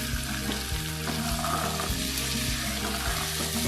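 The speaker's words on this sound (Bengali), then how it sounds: "এবার 1 বাটি মটরশুঁটি সেটা দিয়ে দিলাম।" Potatoes frying in a pan as a bowl of peas goes in for a vegetarian aloo dum, a steady loud sizzle with stirring scrapes and soft clatters throughout.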